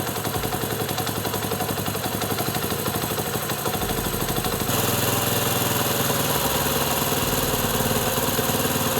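Honda CD 70 motorcycle engine idling steadily at about 2230 rpm after a carburettor idle-speed adjustment, a continuous close, loud mechanical putter that rises slightly in pitch partway through.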